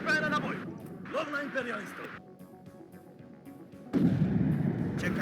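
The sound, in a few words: artillery fire support in the video game Warno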